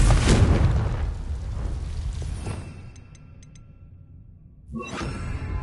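A Confringo blasting spell from Hogwarts Legacy goes off with a loud boom at the start. It decays into a rumbling fade, then a fainter burst follows near the end.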